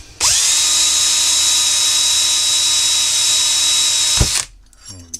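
A power drill whines steadily at high speed for about four seconds, drilling a pilot hole in metal, loud and close, then spins down and stops, followed by faint handling noise.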